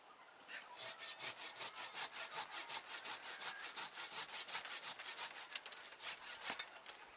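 A hand saw cuts through a branch of an espaliered apple tree, about two dozen quick, even rasping strokes that are close and clear.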